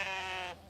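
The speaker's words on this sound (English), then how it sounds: "joined by these beautiful sheep that give out the world famous wool" Sheep on a farm near Wellington, New Zealand, give a single loud, close bleat that holds steady for about half a second and then cuts off.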